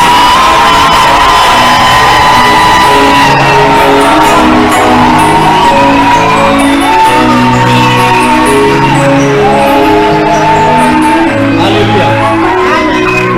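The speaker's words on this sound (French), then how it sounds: "On acclame avec des cris de joie très forts." A church congregation at a French-language service erupts in loud, sustained cheering, whoops and shouts of joy, a dense, saturated roar of many voices filling the room.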